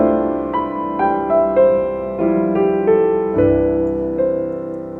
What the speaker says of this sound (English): That's the sound of your Ionian mode.